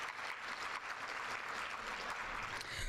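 Steady applause from an audience at the Michigan ACE Launch 2017 event, with dense, even clapping that holds close and loud for the whole stretch, without voices.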